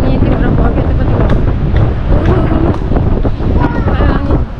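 Strong wind buffets the microphone outdoors during a family outing in Alor Setar, a loud, continuous rumbling roar with gusty swells throughout, while people talk over it.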